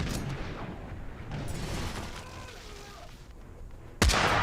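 A sudden loud explosion bursts near the end in the battle game Totally Accurate Battle Simulator, following quieter game noise and faint voices.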